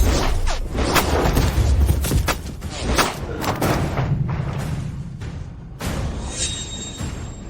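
Gunfire in a dubbed action film: a rapid series of sharp, close shots and heavy thuds, loud and dense at first, thinning into scattered impacts, with a brief metallic ring near the end.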